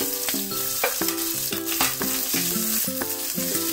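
Carrots and capsicum (bell pepper) sizzle and crackle steadily as they are stir-fried in a pan for a veg fried rice, a close, continuous frying hiss with the rattle of stirring and no voices.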